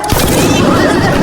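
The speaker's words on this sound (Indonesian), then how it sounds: "Chan Chiang pun terkena tembakan" A gunshot in a film scene, a loud broadband blast at the start that leaves a dense, booming wash of sound behind it for the remaining second.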